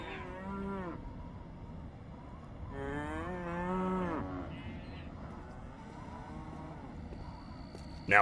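Cows in Postal 2 give two long, drawn-out moos, one early and one a little later, both fairly close and loud, over a steady background hum with no speech.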